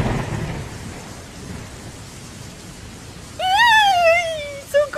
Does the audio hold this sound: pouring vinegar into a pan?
no